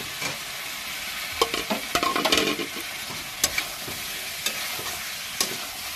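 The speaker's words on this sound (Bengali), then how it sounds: "দিয়ে আবার কষিয়ে নিচ্ছি।" Mutton curry with potatoes being sautéed and stirred in a pan, steady close sizzle with a spatula scraping and clattering in irregular bursts, no voices.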